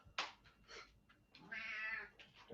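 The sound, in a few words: cat meowing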